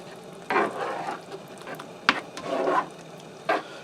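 Beef stroganoff being stirred in a skillet, with a few soft scraping sweeps of the spoon against the pan and sharp clicks and knocks between them, heard up close over a faint background.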